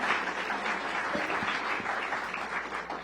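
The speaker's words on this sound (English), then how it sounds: "Let's give another round of applause to Olivia for that wonderful introduction." An evening audience claps continuously at a DC Public Schools strategic plan launch event. The applause is steady, full and fairly loud and lasts the whole three seconds.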